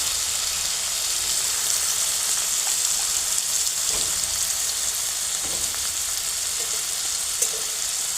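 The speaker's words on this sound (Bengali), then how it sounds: "আর পনিরটাকে একটু কড়া করে ভাজতে হবে" Paneer fries in a hot kadai over a clay stove, a steady loud hiss and crackle of oil filling the whole stretch, with a few soft stirring knocks and no voices.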